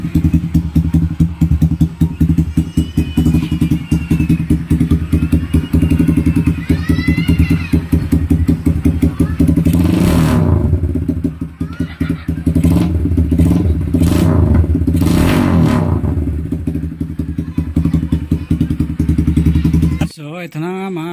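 A Kawasaki Barako motorcycle fitted with a GP Warrior muffler idles loudly and close with a rough, clattering exhaust, then revs sharply in a few bursts before settling back to idle and cutting off abruptly.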